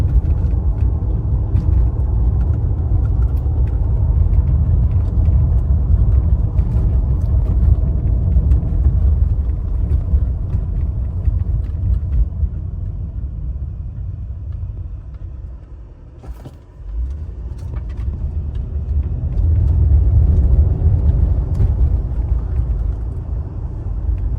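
A 1992 Mercedes-Benz 500E W124 drives along, its engine and road noise forming a steady loud rumble that dips briefly in the middle before building again.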